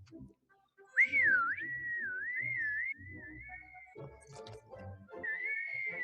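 A sustained human whistle from a film scene glides up and down in a wavering melodic line, loud and close over quiet background sounds, with a short pause before a final held note.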